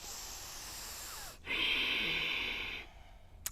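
Deep breathing during a power yoga flow: a soft, steady exhale-like rush, then a stronger hissing breath through the nose lasting over a second, followed by a quieter tail and a small click.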